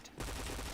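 Rapid automatic gunfire crackles in a shooter video game, a quick burst of repeated shots starting abruptly after a brief quiet moment, faint overall.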